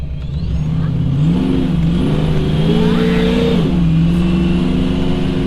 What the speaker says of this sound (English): me and my little buddy going for a test drive.